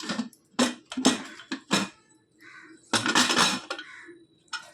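Metal pots, pans and ladles clink and scrape in sharp bursts as cooked food such as rice, sambar and chicken gravy is transferred into another vessel in a home kitchen, with quiet gaps between the clatters.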